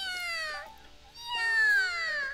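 A voice actor imitates a cat for a visual novel, drawing out two long, sliding meows with a brief gap between them, clear and up close.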